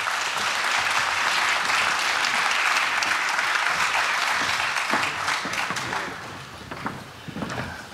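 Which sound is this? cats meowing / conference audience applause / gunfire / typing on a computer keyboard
conference audience applause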